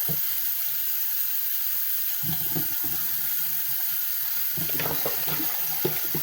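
Water runs steadily from a sink tap while an ostomy bag is rinsed, with a constant hiss and irregular splashing and sloshing as water goes in and out of the bag, close and alone.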